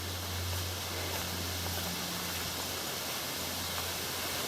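Cascade waterfall on the Great North Walk near a small pool at Somersby on the Central Coast, a dense steady rush of falling water filling the whole moment, close and unbroken with no voices.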